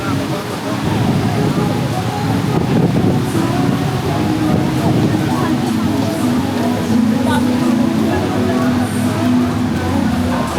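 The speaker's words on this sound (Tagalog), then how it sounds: "Talagang lakas na hangin dito sa tawag dun." Strong wind buffets the microphone at White Beach, Boracay, a steady roar with waves and wind noise running continuously throughout.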